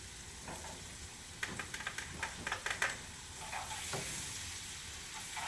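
Garlic sizzling in melted butter in a pan on the stove, a steady frying hiss with a few sharp clicks and stirring scrapes in the middle, close and fairly quiet with no talking.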